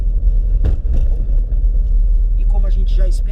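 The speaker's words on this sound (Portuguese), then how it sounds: "De novo a 40 por hora na lombada," Volkswagen Up 1.0 MPI car rolling over a speed bump at 40 km/h, with a low continuous road rumble and a couple of dull thumps from the suspension, loud and close inside the cabin, and a voice talking over it.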